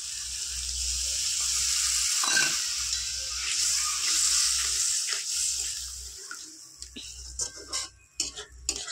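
Spice paste for an okra dish frying in a pan as a little water goes in, a bright steady hiss and sizzle with low bubbling, then spoon scrapes and taps near the end.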